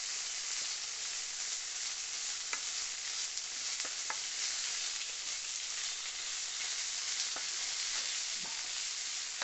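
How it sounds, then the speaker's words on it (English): Kidneys and bacon fry in a pan, giving a steady close sizzle with a few faint clicks of stirring throughout. "Starting to brown, sizzling away."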